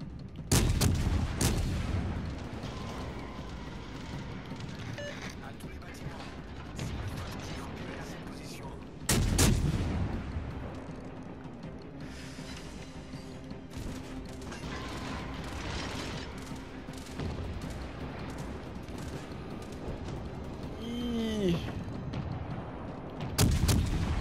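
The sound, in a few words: ship guns firing in video game World of Warships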